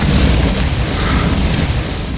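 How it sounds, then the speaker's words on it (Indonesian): A house explodes and burns in the film Final Destination, a loud, dense rumbling blast filling the whole moment with heavy low roar and crackling debris, no voices. "Dan tiba-tiba rumah Nyonya Luton pun meledak dan terbakar."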